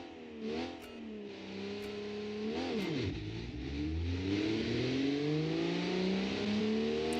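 A 1978 sports car engine accelerates hard on a drag strip, revving up through rising tones with a brief gear-change dip before climbing steadily again, loud and close, no voices.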